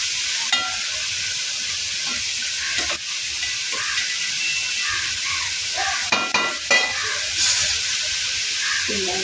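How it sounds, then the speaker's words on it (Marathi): Chopped vegetables fry in hot oil in a home kitchen, a steady broadband sizzle with a few scraping stirs and clinks, close and fairly loud, with no talking. "भाज्या ज्या कापलेल्या आहेत चिरलेल्या त्या आपण याच्यामध्ये घालून छान असं तेलामध्ये"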